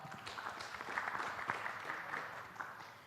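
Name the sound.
audience applause for panelist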